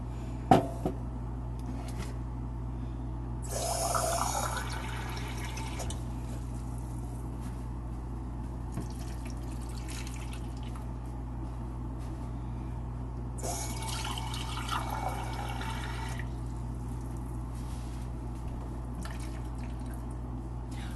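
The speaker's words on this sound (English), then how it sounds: "But I think I'm just going to put regular water in." Plain water poured into a container of watermelon juice, two short splashing, trickling bursts separated by quiet, set against a steady low hum aboard a boat.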